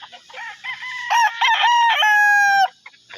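A gamefowl rooster crows loudly and close by, a long strained cock-a-doodle-doo with a drawn-out final note, heard on its own.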